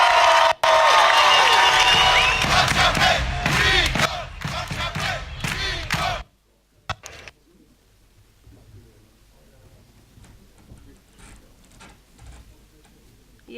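A crowd claps hands together in Republic Square, a dense, loud burst of applause for about six seconds that cuts off abruptly and leaves a near-silent room.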